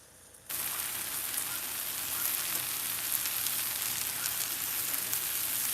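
Corn, black beans, onion and sweet potato roasting in a pan for tacos, a loud steady sizzle that starts abruptly and holds close and constant.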